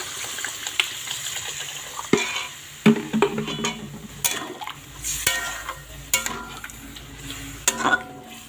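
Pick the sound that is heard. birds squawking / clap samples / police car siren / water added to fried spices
water added to fried spices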